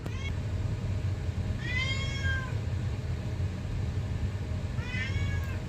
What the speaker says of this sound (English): She's meowing because I didn't give her